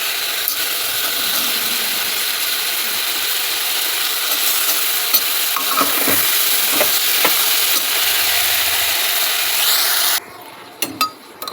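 Soya chunks fry in oil in a pan at home, a loud continuous sizzle with scattered scraping clinks of a utensil stirring, before the sizzling cuts off abruptly near the end.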